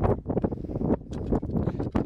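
Cold, strong wind at a mountain pass in the Alps in July, buffeting the microphone in loud, gusty bursts that rise and fall throughout, with no voices.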